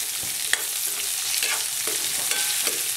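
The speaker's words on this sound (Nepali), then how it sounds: "तेल हाल्ने अनि फ्राई गरेर यसरी किनिमालाई यसरी फ्राई गर्ने" Fermented soybeans (kinima) fry in hot oil with a constant crackling sizzle, broken by a few scraping stirs of a spoon against the pan, close and clear with no voices.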